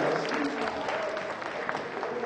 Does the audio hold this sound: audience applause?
yes